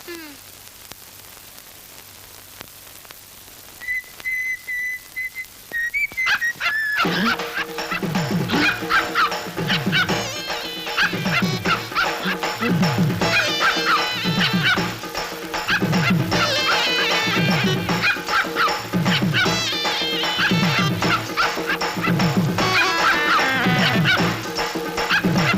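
A dog barks in rapid, repeated bursts, loud and close, continuing steadily for about twenty seconds after a quieter opening with brief tones and background sounds.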